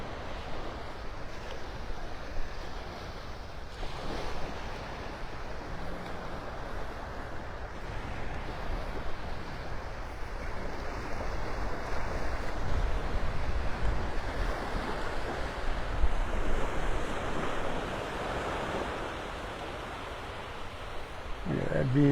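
Surf and wind at Delnor-Wiggins beach in North Naples, Florida, make a broad continuous wash with a slow swell of breaking waves, gusts rumbling on the microphone, and faint voices now and then.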